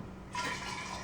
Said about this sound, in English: What do you think will happen when I pour in even more water?